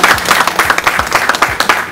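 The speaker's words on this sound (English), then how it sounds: "Give yourselves a round of applause." Crowd applause from a public transportation business gathering: loud, close clapping in a quick, uneven rhythm for just under two seconds, with no talk over it.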